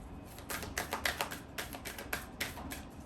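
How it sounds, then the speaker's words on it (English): Stiff tarot cards being shuffled by hand, a quiet series of crisp riffling snaps and taps in short irregular bursts, close and soft with no talking. "Let's shuffle this up a little bit."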